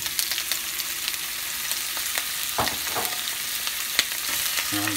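Meatballs frying and browning in a pan for spaghetti and meatballs, a steady close sizzle with a few scraping stirs partway through and no talking.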